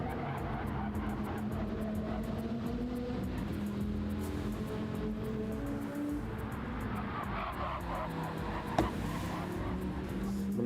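A race car circles Trial Mountain Circuit in an endurance racing video game, its engine droning steadily and close with rising and falling pitch, other cars faintly passing.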